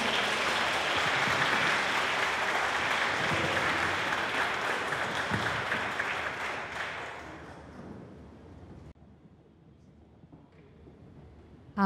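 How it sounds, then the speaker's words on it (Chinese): Audience applause for choir members at a memorial concert, a dense sustained clapping that fills the room and then thins and fades toward the end, with only scattered claps left. "那请大家再次掌声欢迎我们台南湾西二上总的团员们上台"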